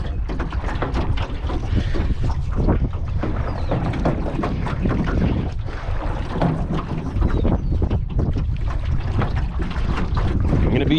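Strong wind blowing outdoors at a pond, a loud, steady roar of gusts buffeting the microphone throughout, with no voices.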